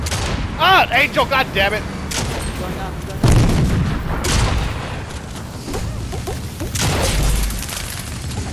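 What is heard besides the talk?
gunfire in a video game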